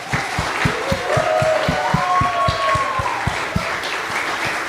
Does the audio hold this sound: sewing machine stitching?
no